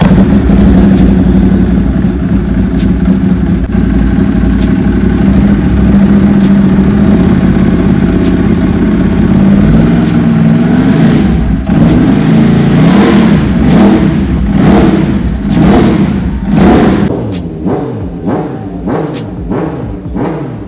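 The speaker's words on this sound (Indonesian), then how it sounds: "Langsung aja kita cek sound motor yang satu ini." A Ducati 821 twin-cylinder naked motorcycle engine idles with a loud, steady, lumpy rumble, then blips the throttle in a series of sharp revs that rise and fall in quick succession, close and alone.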